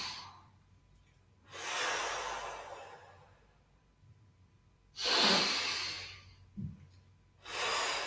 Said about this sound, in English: everyone, breathing in